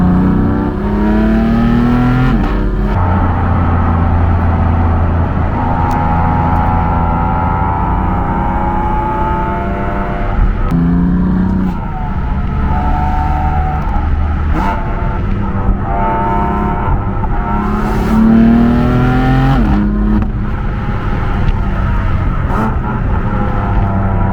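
A 2017 BMW M4 driven hard through corners, its engine revving up and down in repeated surges with gear changes and tire noise, loud and close for the whole stretch.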